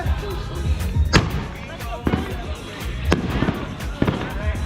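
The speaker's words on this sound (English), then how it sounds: "First firework of the night" Fireworks going off at night during Fourth of July celebrations, several sharp cracking bangs spaced about a second apart over crackling and background voices, fairly close.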